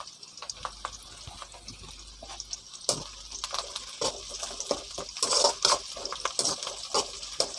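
Green chillies and curry leaves are stirred in a pan, a quiet sizzle punctuated by repeated scraping and clinking of a spoon against the metal.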